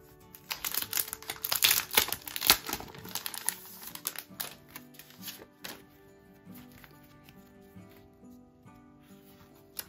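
Erin Condren Hello Kitty holiday sticker book sheets are handled, giving crisp paper crinkling and rustling. The handling is busy and close in the first half, then thins to lighter, sparser rustles, with no talking.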